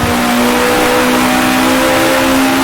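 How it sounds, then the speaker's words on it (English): A 1966 Formula One car engine in the Grand Prix Legends racing game, at the Dutch Grand Prix, holds a loud, sustained, buzzing drone at high revs with no voices over it. "You can hear the RPMs rise."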